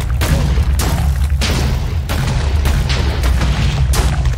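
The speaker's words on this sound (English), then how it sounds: "we have the mini pistol, which is it uses mini pistol ammo, and it's just not really powerful. But it does have the high rate of fire" A mini pistol fires rapidly in a modded Minecraft video game, a loud steady string of popping shots with heavy low booms, heard with no one talking.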